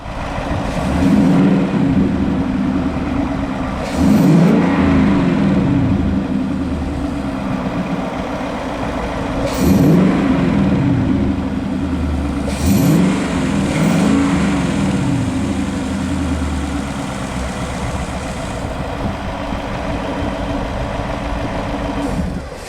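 A 2019 Ford Mustang GT V8 fitted with a JLT cold air intake idles with a deep low rumble, swelling in a few gentle revs before settling back, close and fairly loud, with no one speaking.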